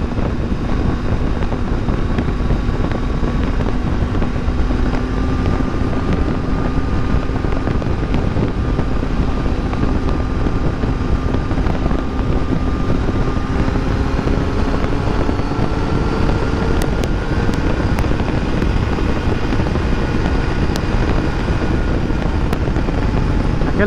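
A 2019/2020 Triumph Tiger 800 XCA motorcycle cruising on a highway at about 100 km/h. Constant roaring wind buffeting dominates, with the engine's faint, steady hum underneath throughout.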